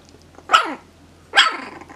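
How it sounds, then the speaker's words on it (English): Puppies from a young litter give two short, sharp barks with a growly edge, about a second apart, close and fairly loud, with no talk. "We have a puppy chorus."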